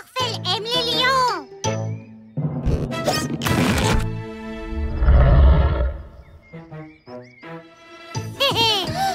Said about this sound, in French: Regarde, il y a un lion qui va venir vivre aux eaux dès aujourd'hui.